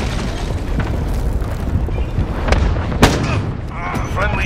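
Cruise missile strike in Call of Duty: Modern Warfare ground war, a dense wall of booms and gunfire with one sharp, loud blast standing out near the middle, and voices murmuring beneath.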